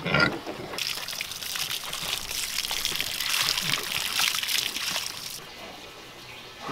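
Thirsty pigs drink from a waterer, with close trickling and sloshing water running for several seconds before easing off.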